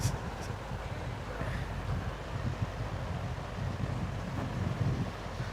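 Wind blows steadily across an outdoor cricket ground during a local match, a constant low rushing roar buffeting the microphone, with no clear voices.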